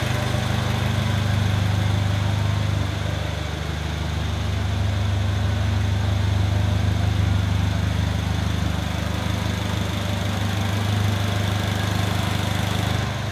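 A Polaris Slingshot roadster with a Chevrolet Ecotec engine idles close by, a steady low rumble that holds even and unbroken, with no talk over it.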